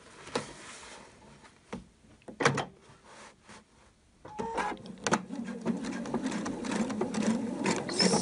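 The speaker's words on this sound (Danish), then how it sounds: "Syr ind igennem spejlet på sømmen her." Sewing machine stitching elastic into the top of a homemade Santa hat, a few short bursts of close motor whir at first, then a steady run of stitching going back and forth over the seam.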